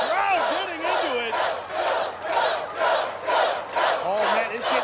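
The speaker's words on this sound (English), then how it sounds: "And the crowd getting into it." A college crowd at a Team Ninja Warrior competition chants and cheers in rhythmic, swelling waves, loud and close, with a shouting voice rising over the noise.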